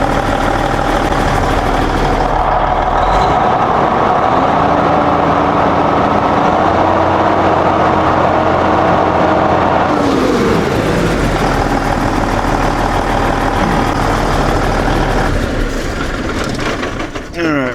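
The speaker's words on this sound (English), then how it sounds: "Let's rev it up and see if it moves at all." A Cummins N14 diesel truck engine runs loud and steady nearby, its low throbbing drone rising and settling as it is revved, with the pitch shifting midway through.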